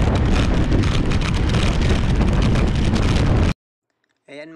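Strong wind buffeting a microphone while cycling on a western coast highway in Taiwan, a loud continuous roar that cuts off abruptly, followed by a short burst of speech.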